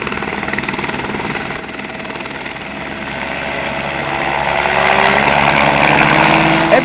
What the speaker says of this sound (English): against the helicopter as they conducted their test run on the runway